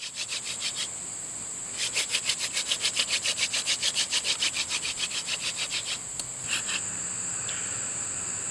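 Rhythmic rasping strokes of a wooden hand drill spun against a wooden board for friction fire, quick and regular, with a faint insect-like chirp in the background.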